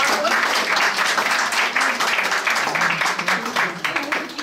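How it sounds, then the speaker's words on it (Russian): A crowd at the opening of a sports club for disabled people in Togliatti claps together in a loud, dense burst, with voices audible among the applause. "давайте похлопаем"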